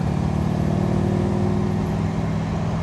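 A 1963 Daimler SP250 V8 sports car cruising on the road, its engine giving a steady, continuous drone close by with road noise and no talk.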